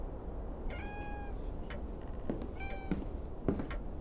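An attention-seeking house cat meows twice indoors, a longer call followed by a shorter one, close and fairly soft over a quiet room with light ambient rustle.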